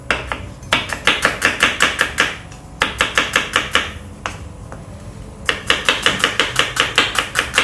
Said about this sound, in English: when you cut the onion, slices the onion